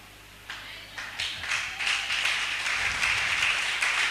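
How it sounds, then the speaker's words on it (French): Audience at a church service applauding hesitantly, scattered claps that start sparse and build into a steady, moderate round of applause close by. "Je comprends pourquoi vous acclamez timidement."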